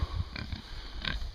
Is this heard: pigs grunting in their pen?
yes